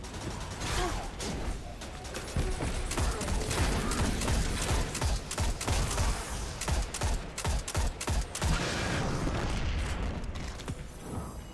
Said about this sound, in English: Some kind of anti-aircraft fire.